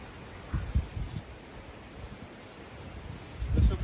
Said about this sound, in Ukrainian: Все, почався якийсь ураган.